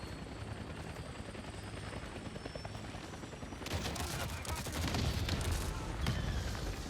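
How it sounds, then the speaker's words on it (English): Rapid bursts of booming explosions and gunfire from Avatar: Frontiers of Pandora, steady at first, then louder and denser halfway through; no talking. "I truly don't know what I'm shooting that's causing these explosions"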